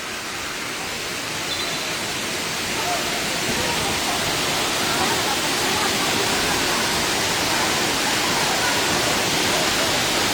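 Water pours down a waterfall in a steady, dense roar, constant and moderately distant, with a person talking faintly over it.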